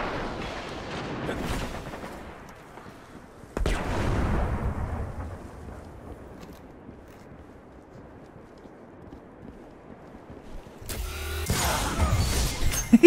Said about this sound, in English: I'm gonna toss a grenade up there though